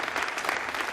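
After the satellite separation of a Vega rocket launch, a room of people breaks into steady applause, brief and fairly close, without speech.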